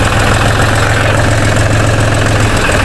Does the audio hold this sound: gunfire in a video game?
no